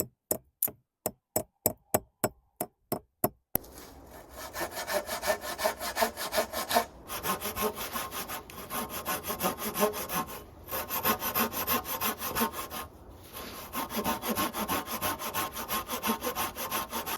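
Hand saw cutting through wood at a forest camp in snowy winter, with steady back-and-forth strokes under a few sharp knocks at the start, close and continuous, with brief pauses between runs of strokes.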